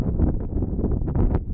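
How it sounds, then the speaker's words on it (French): Gusty wind at a high mountain pass in the Pyrenees, buffeting the microphone as a steady low rumble with brief surges, close and fairly loud, with no voices. "Alors il y a un peu de vent, hein, je sais pas qu'est-ce que ça va être le son."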